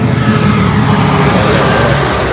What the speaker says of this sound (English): More loud vehicles.